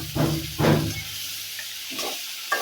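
Prawns frying in a pan for a tomato prawn bhuna, a soft continuous sizzle with several louder scraping stirs near the start and a few lighter ones later; no speech.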